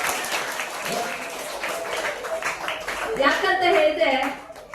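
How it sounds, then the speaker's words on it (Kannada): School audience of students applauding their teachers at a government school event, a sustained burst of clapping that swells toward the end, with voices mixed in. "ನಿಮ್ಮ ಶಿಕ್ಷಕರಿಗೆ ಒಂದು ಜೋರಾದ ಚಪ್ಪಾಳೆಯನ್ನು ಕೊಡ್ಲಿಕ್ಕೆ ನಾನು ಇಷ್ಟಪಡ್ತೇನೆ."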